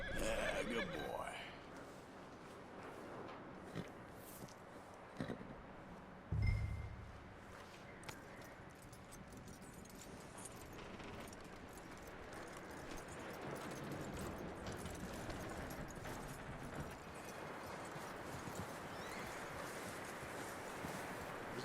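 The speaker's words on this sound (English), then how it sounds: "That looks like a decent horse." In Red Dead Redemption 2 a horse whinnies and snorts amid trail ambience, with a short burst of hoof activity early on, quiet overall; occasional speech and faint chuckling sit over it.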